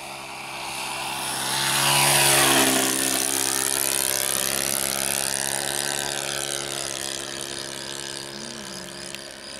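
An EcoTop Maracana RC plane with an OS FS 52 four-stroke nitro engine makes a low pass, its buzzing engine note rising as it approaches, peaking overhead, then sliding lower as it pulls away.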